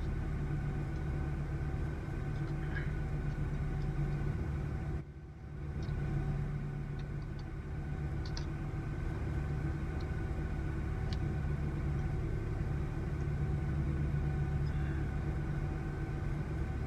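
A quiet propane-powered Bluebird school bus engine runs with a steady, low idling rumble, continuous and even apart from a brief dip partway through.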